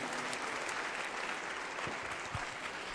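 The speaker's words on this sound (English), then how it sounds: "Let's keep the applause coming. A big round of applause." Audience at an entrepreneur town hall in Ghana applauding steadily, a dense, even wash of clapping heard from a distance at moderate level, with a few sharper individual claps standing out.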